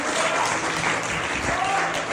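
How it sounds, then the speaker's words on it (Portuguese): Church congregation applauding together, a dense, steady wash of clapping filling the room at even loudness, with voices faintly mixed underneath. "Você pode aplaudir o nome do Senhor?"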